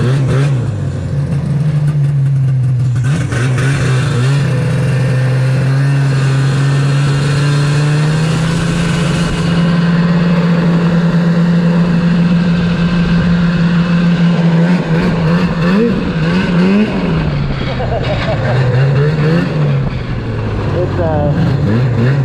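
An Ovation mod build's car engine hums steadily while driving, its pitch rising and dipping as it revs. The sound is loud and close, as if heard from inside the car.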